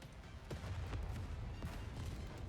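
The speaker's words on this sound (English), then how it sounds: "The heretic staggers under the barrage of explosions." A barrage of weapon explosions in a video game battle, a distant, muffled run of rumbling booms and sharp blasts layered over a low continuous roar, fairly quiet, with no voices.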